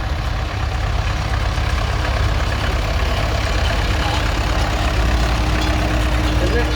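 A Trot Master tractor engine idles and rumbles at an agricultural show, a steady low chug heard fairly close amid outdoor background noise.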